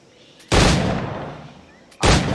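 Two loud, close firearm shots in Assassin's Creed IV Black Flag, each a sharp blast with a long rumbling decay, spaced about a second and a half apart, with no talking.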